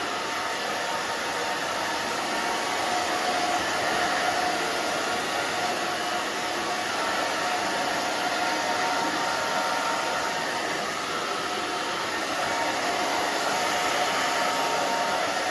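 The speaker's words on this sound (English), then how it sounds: "now we're gonna just go back and forth with the fingers, blow dryer" A blow dryer runs continuously at close range drying a pixie cut, a steady loud rushing whoosh with a faint high whine and no pauses.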